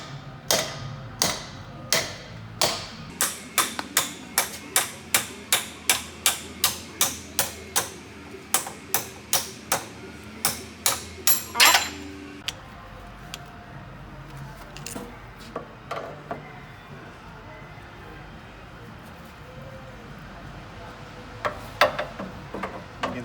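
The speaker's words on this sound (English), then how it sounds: "stick a punch right on through there, onto the top of the old cylinder, and just hammer it on out" Sharp, regular hammer strikes on a punch driving out the old clamp cylinder of a COATS Heavy Duty HIT 5000 tire changer, about two dozen evenly spaced metallic blows, then scattered lighter knocks and clinks after a pause.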